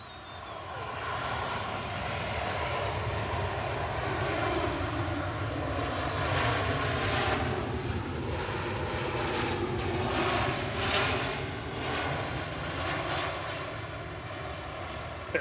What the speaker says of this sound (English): Shuttle 2 Victor coming up from London Heathrow with flight 1394. That's GEUOF, which is a 22-year-old A319